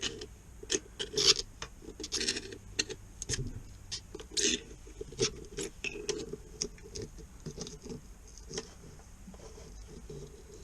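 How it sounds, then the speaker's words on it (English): An old, blunt screwdriver prying at the edge of a Volvo Penta steering actuator, giving irregular scraping, rasping and clicking bursts of metal and plastic at close range, with quieter pauses between efforts. "I picked my oldest, bluntest screwdriver and tried to pry it off."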